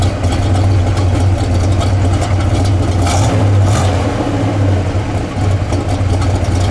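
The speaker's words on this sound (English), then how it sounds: "rev it up a little bit. See what our idle is at, Dalt." A 1970 Pontiac GTO Judge V8 idles and revs lightly, a steady loud low rumble with a small throttle swell near the middle and no speech over it.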